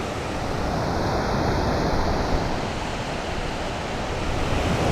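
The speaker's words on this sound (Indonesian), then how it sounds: "Ombak tuh nenangin ya." Ocean surf rolls and breaks in a continuous broadband wash, steady and fairly loud, with some wind noise and no voices.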